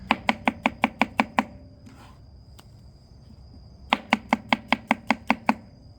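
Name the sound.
knife slicing vegetables on a cutting board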